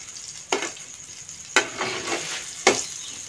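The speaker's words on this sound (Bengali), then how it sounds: "এখানে ডিমটা আগে ভেজে নেব" An egg fries in a pan beside browned boneless meat, with three sharp sizzling bursts spaced about a second apart, each fading into a soft crackle over a quiet background.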